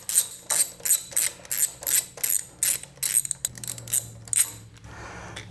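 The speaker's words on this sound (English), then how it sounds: "So all we have left to do now is just remove these 2 bolts." A ratchet wrench loosens the foot peg bracket bolts on a 2019 Suzuki V-Strom 650XT motorcycle, giving steady rapid clicking bursts in a regular back-and-forth rhythm, close and loud, then a looser rattle as the bolt frees.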